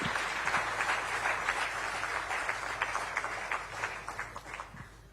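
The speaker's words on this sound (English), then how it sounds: "can we have a big round of applause?" Audience at a business summit applauding the introduction of India's Home Minister, a steady, fairly distant wash of clapping that thins out toward the end.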